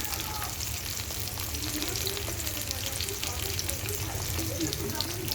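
Vegetables fry in hilsa fish oil with a steady, close, dense sizzle that holds unbroken throughout, with no clear voice over it.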